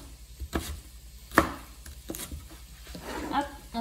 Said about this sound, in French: on va les découper. Voilà, en rondelles.